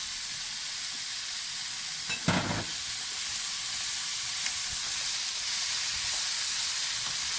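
Green beans drop into a hot frying pan, setting off a steady, close sizzle and hiss that runs throughout, with a brief clatter as they land.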